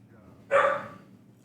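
A single loud bark from a dog in the room during a Big Splash League match broadcast, with a quiet voice beneath and the start of another bark at the end.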